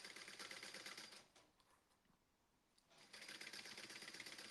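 A sewing machine top stitching fabric runs in two quick bursts of rapid, rattling stitching, close and clear, separated by a short quiet pause.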